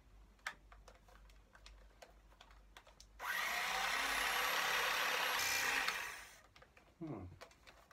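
Foam for van seat cushions is cut with a loud, buzzing motorized whine that lasts about three seconds. Scattered ticks and handling noises come before and after.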